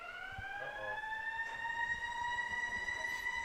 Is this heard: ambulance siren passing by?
yes